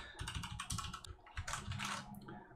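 Keycaps being handled and clicked on a mechanical keyboard during a refurbishment with new caps, a dense close run of rapid plastic clicks and clacks with no talk.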